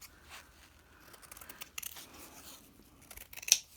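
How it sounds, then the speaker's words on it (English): Fabric scissors snip through cloth during a sewing session, producing quiet, sparse cuts with a few sharper, crisper snips near the end and long soft pauses between them. "So I'll get my fabric scissors."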